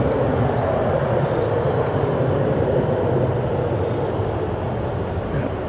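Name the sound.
Embraer 175 jet airliner taking off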